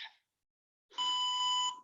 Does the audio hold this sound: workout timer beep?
yes